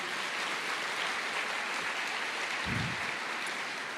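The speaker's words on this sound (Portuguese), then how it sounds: "Você pode dar uma salva de palmas para Jesus?" A church congregation claps in a steady, soft wash of applause heard from a distance, like light rain, with one brief low thump near the end.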